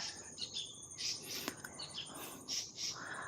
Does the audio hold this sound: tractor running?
no